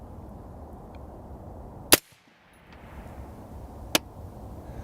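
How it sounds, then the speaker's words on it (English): Two sharp, loud rifle shots from an LWRC SIX8 A5 fired without a suppressor, spaced about two seconds apart, each a sudden crack standing out over a steady low background rumble, with a brief hush after the first. "Now I'm gonna fire around here, now watch, and you're gonna see the bullet hole appear in the cardboard."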